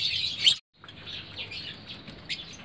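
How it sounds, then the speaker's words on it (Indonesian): Lovebird chicks chirp in high, rapid, close bursts while a parent feeds them, with a short break before the busy tweeting resumes. "Itu kelihatan induknya berada di luar sedang meloloh anaknya."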